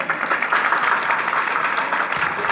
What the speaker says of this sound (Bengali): তাই এদের জন্য একটা জোরে হাততালি।